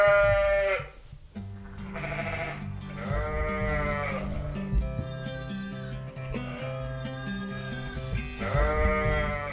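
Sheep on a farm bleat repeatedly and close by, several drawn-out wavering calls overlapping against a quiet outdoor background, with no talking.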